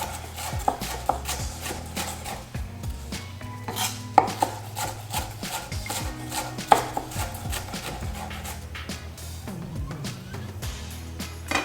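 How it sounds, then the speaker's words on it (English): A knife chops onions on a board in a quick, uneven run of close taps and knocks, with a few sharper hits and a soft tune playing behind it. "And sometimes I'll just go through and just give it another little chop."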